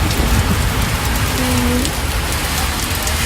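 Steady rain falls and patters on surfaces, loud and close, with a faint low tone passing briefly in the background.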